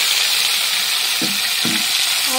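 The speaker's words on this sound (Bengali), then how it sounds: "তো আমি আজকে মাছগুলো সুন্দর করে ভেজে নেবো।" Fish pieces fry in oil in a pan, a close, continuous sizzling hiss with a couple of brief scraping touches, heard alone without talk.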